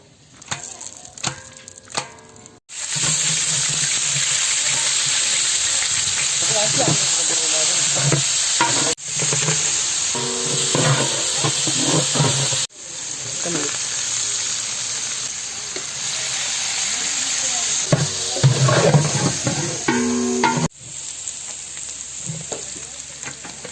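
Oil poured into a pot for a village-style chicken gravy and kuska hisses into a loud, continuous sizzle after some quieter clatter, with brief breaks and stirring scrapes throughout.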